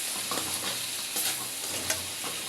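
Curry with tomato and green chili sautéed in a pan, a steady close sizzle with occasional scraping strokes of a spoon, moderately quiet with no talking.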